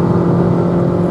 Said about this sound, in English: Back up to 130, down to second gear,